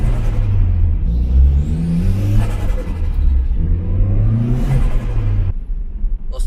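A 90-kilowatt car engine revs hard in repeated surges as the tires lose traction, loud and close, with rising and falling pitch and whirring drivetrain noise between pulls.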